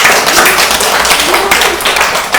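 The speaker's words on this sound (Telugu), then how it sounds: "సరే, క్లాప్స్ కొట్టండి అందరూ." A group of children claps hands in a classroom, a loud, dense patter of many overlapping claps sustained without a break.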